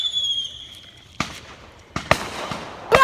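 Fireworks going off in the street: a high whistle, then several sharp bangs and crackling pops at irregular intervals, loud and near.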